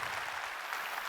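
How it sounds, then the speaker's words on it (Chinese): An audience claps for staff at a corporate company event in Malaysia, a dense, steady burst of applause from many hands, moderately loud and even throughout. "所以首先先给我们这些工作人员一个掌声哈"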